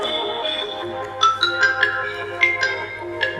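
An Asus Zenfone Max Pro M1 phone speaker plays music at maximum, amplified volume, giving a bright, thin melody with clear plucked notes and no talking.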